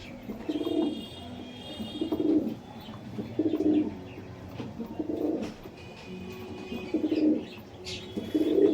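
Kalpetia pigeon, a closed-tailed breed with lightly feathered feet and a black throat, breast and belly, cooing up close in a repeated rhythm of low, rounded phrases with short pauses between them.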